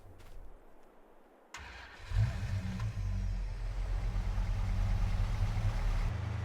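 Truck engine starting in Farming Simulator 22, a short crank then a low idle that settles into a steady, loud rumble, with no talking.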